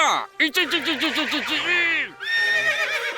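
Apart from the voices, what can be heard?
horse neighing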